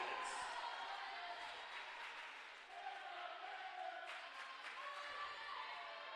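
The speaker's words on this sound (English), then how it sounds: "Yellow Jacket faithful cheering them on" A crowd of home fans cheers at a women's college volleyball match, a broad sustained roar in a gym, fairly distant and steady, swelling slightly midway, with no clear individual voices.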